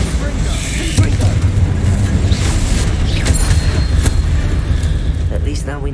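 Confringo blasting spell detonating in a Harry Potter video game, a loud rumbling explosion with crackling debris that stays dense and booming throughout, with speech over it.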